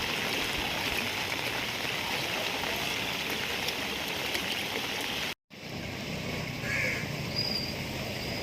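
Rainwater rushes through the flooded streets of a residential colony with overwhelmed drainage, a steady broadband wash of flowing water and rain that continues throughout. It breaks briefly near the middle, and a faint call is heard afterward.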